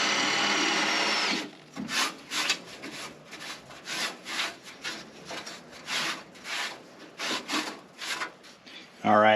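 Drilling mounting holes with a 5/16 bit during a Vintage Air kit install under a G-body Cutlass dash: a brief steady whir gives way to a string of uneven grinding bursts, fairly quiet and close.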